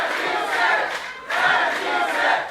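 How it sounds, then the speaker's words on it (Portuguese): Crowd noise at a city council swearing-in ceremony, a loud sustained din of voices in two surges, fitting mixed booing and cheering from the gathered public. "Houve vaias, mas também manifestações de apoio."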